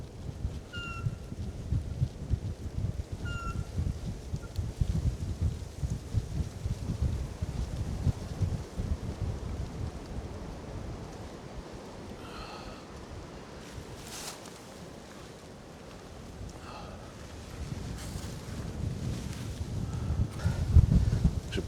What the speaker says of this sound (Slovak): Aj keď ten vietor dá zabrať